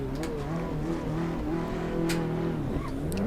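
Race car engine in Assetto Corsa Competizione pulling hard under acceleration, a loud steady revving drone that rises through the gears, with a brief dip at an upshift and faint tire noise, no talk.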